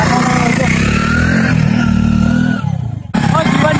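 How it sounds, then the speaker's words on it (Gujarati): A motorcycle engine idles loud and close in a steady throbbing drone, briefly dipping and cutting out before resuming, while voices talk over it. "બાઈક બંધ કરો."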